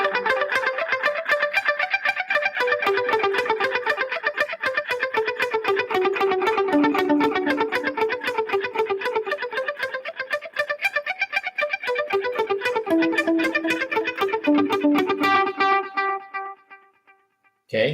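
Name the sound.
electric guitar with echo effect playing Carol of the Bells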